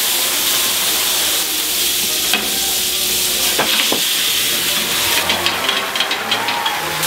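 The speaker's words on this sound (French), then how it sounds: "À ce stade-là, un peu de ricard. On flambe." Garlic shrimp sizzle and hiss loudly on a hot plancha as Ricard is flambéed, with a steady frying roar, a few sharp clicks and stirring scrapes, and no talking.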